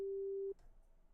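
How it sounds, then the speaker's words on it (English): A synthesizer holds a pure sine-wave tone, a single steady clean pitch for about half a second before it cuts off, leaving faint background noise. "right here you've got a sine wave, right? So it just is a consistent up and down."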